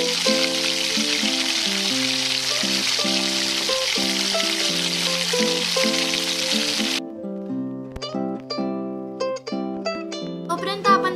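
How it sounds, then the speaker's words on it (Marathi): Onion and garlic fry in oil in a wok with a steady, dense sizzle for several seconds before it stops. Melodic background music plays throughout. "कांदा लाल होस तोपर्यंत आपल्याला नीट भाजून घ्यायचा आहे।"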